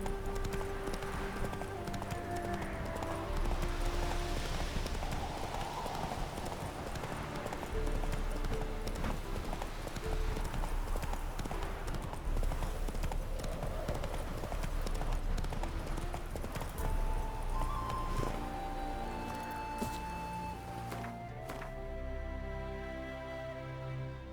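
Roach, a horse in The Witcher 3, gallops with rapid, steady hoofbeat clip-clops throughout, set against a game music score with sustained tones, and the pace holds to the end.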